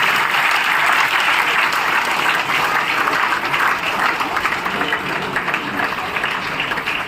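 A gathering at a satsang ceremony in a Ballabhgarh ashram claps to welcome an arriving guest, the head of a cow shelter. The applause is loud, dense and sustained, easing slightly toward the end.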